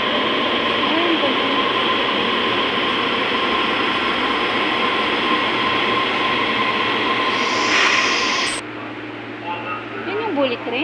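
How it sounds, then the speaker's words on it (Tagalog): A train sits at a station in Taiwan with a loud steady rumbling hum and hiss for several seconds, then the noise cuts off sharply to a quieter station ambience with faint voices. "Ayan o, yung train."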